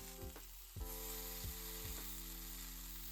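Stuffed tomatoes laid cut side down in a pan of olive oil over medium heat, giving a steady close sizzle with a few soft knocks and clatters of placement early on.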